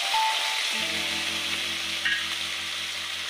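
Tomato paste hitting hot oil in a pan while cooking Tel Koi fish curry, a steady close sizzle and fry that runs continuously at moderate level with no voices.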